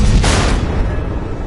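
A missile detonates in the Batman: The Enemy Within video game, a loud, close boom that bursts at the start and rumbles away over a second and a half, with no voices.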